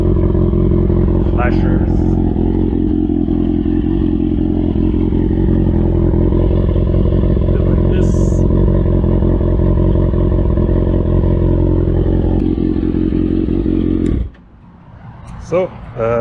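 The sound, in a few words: Kawasaki Ninja ZX6R motorcycle engine running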